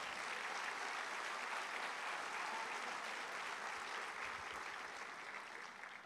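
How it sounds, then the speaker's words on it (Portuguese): A church congregation applauds for Jesus, a steady dense wash of clapping that fills the space and holds at a moderate level, tapering slightly at the end. "Vamos aplaudir."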